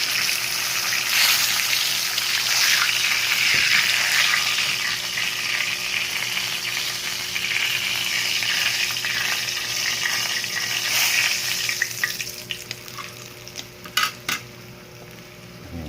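Tilapia frying in a pan, a loud, dense, continuous sizzle and crackle of hot oil up close, easing toward the end as a few utensil clinks and taps sound against the pan.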